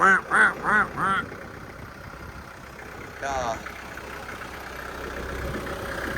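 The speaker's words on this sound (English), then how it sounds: "let me make sure it's on low RPMs and watch how quick it starts up" A 2009 Kubota L4400E tractor with a front loader, its diesel engine cranking in four rhythmic bursts, then catching and settling into a steady low idle, close by with a brief higher squeal midway.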